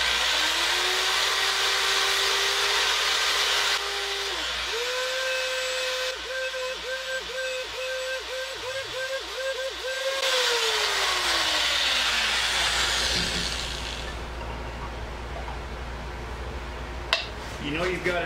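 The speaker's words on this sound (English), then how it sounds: "We're going to do that with a small sander." A small power sander works the wood of a whiskey barrel, a loud whine that shifts pitch as it runs, bogs and speeds up, then stops and leaves quieter background noise near the end.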